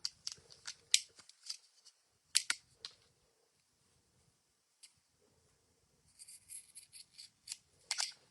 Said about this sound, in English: let me get my fabric scissors